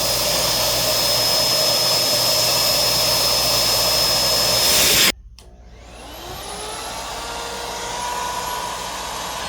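A Nilfisk HDS1005 vacuum with a damaged body roars loudly and steadily on its high setting, then abruptly drops to a quieter, shifting whoosh as airflow changes, with no talking.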